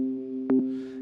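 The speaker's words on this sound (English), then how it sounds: "this is what the pad initially sounded like." Unprocessed synth pad one-shot from FL Studio: a steady sustained tone with a brief brighter blip near the middle and a soft airy hiss rising toward the end, heard alone.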